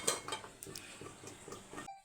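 A lid is set onto a pot of capsicum lemon rice with a few soft metallic clinks and light scrapes, fairly quiet and close, and it ends in silence.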